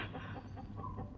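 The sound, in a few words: chickens clucking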